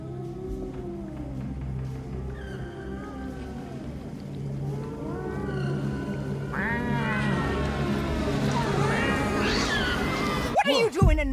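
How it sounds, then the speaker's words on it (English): A cat meows in drawn-out, wavering cries, growing louder and more insistent toward the end, beneath a steady low hum with people talking alongside. "I heard a cat."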